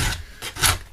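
A hand file rasps across the cutters of a chainsaw chain in a few short strokes, each a dry, bright scraping burst with brief pauses between.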